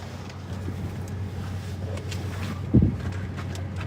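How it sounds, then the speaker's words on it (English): Strong storm wind outdoors while storm chasing at night, a steady low roar buffeting the microphone, with a brief louder gust thump partway through. "Holy cow, it's windy out."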